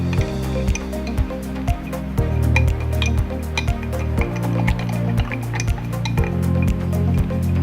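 A yeast mixture for cinnamon bread is stirred in a bowl, a rhythmic series of close, liquid swishing and clinking strokes, repeated steadily throughout without talk.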